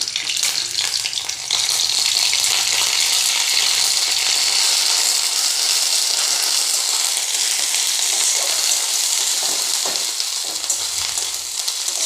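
Ginger sizzles in hot oil for a curry of peas and potatoes, a loud, steady broadband crackle of frying that runs close and unbroken throughout, with no voices.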